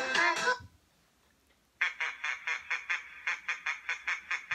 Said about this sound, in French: Le canard!